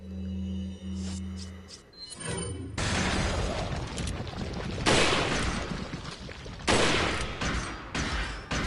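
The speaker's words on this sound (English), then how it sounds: "Flashbang time." A flashbang grenade goes off during a Resident Evil 4 playthrough on PlayStation 4, starting as a tonal hum and then breaking into a sharp burst that drops into loud, dense crackling noise with repeated surges. The noise runs to the end with no clear talking.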